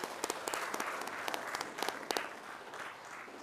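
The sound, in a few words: applause at a school board meeting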